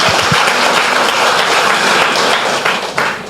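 Church congregation applauding loudly in praise, a dense burst of clapping that holds for a few seconds and then starts to thin.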